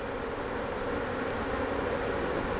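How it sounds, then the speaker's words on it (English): Honey bees from a swarm hum in a steady, dense buzz close around an open hive frame during a queen transplant, continuous and moderately loud with no talking. "these bees are a lot more grumpy than they have been at any time"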